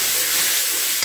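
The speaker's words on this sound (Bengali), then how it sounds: "মশলাটাকে বেশ ভালো করে কিছুক্ষণ এটাকে কষিয়ে নেব।" Spice paste for a dried loitta fish curry is stir-fried in a pan, giving off a loud, continuous hissing sizzle over about a second with no talk.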